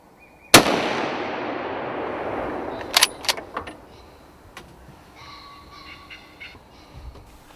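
A single sharp, loud rifle crack rings out at a muntjac buck in the Essex countryside and fades into a long echo. A quick series of metallic clicks and clacks from a bolt reload follows close by.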